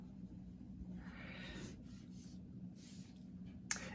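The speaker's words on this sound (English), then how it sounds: "so I'll just write circumference" Someone writing on a board during a physics lesson, producing a few short, scratchy strokes that are faint and close over a quiet room hum.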